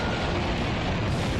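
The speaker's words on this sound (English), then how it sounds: "creating a big explosion" A big cartoon explosion roars as one continuous, dense, loud blast with no pauses, filling the whole moment with rumbling noise.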